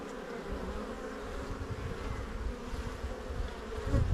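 Honeybees hum and buzz softly around an open hive during an inspection, a faint, steady drone of many insects close by with no voices.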